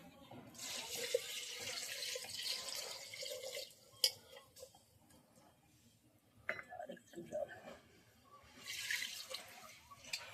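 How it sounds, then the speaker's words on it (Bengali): Water is poured into a pot of turmeric-rubbed meat in a village kitchen, rushing in bursts with clinks of a vessel and drips between pours, while a voice speaks faintly in the background. "এবার দিয়ে দেবো জল"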